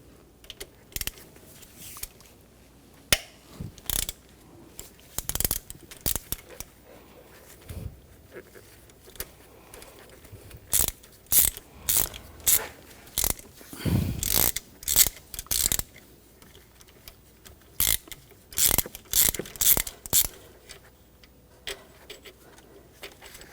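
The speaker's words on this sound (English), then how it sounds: "Using a 6mm hex socket, we're going to take these bolts out." A ratchet with a 6mm hex socket backs bolts out of a 2004-2009 Audi A4 Quattro 2.0L four-cylinder engine, giving close bursts of rapid clicking between pauses and quiet stretches.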